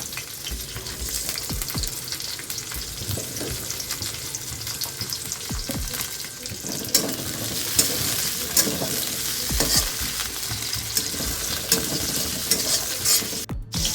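Tomato and ginger frying in oil in a pan while being stirred, a continuous close sizzle with repeated scraping and clacking of the spoon, no voices.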